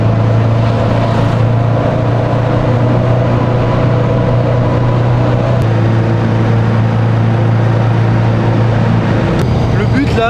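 A T16 rally car on its original exhaust produces a loud, constant engine drone, heard from inside the car as a steady close rumble with a voice speaking over it.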